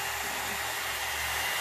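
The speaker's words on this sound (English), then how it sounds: "It does sound and feels like the heat is almost like having a regular blower and a additional brush." A GEM hot air brush blows hot air with a steady, loud, close-up whoosh and a faint motor hum, unbroken for the whole moment.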